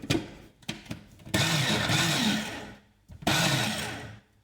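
A Siemens FQ.1 Rondo MR008B1 food processor motor whirs loudly in two sustained bursts, with short stuttering pulses before the first, stopping and restarting after a brief pause.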